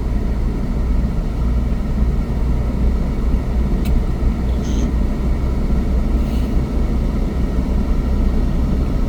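A car pulls uphill slowly during a driving lesson, its engine a dense, steady rumble heard from inside the cabin, with a few faint brief high sounds over it.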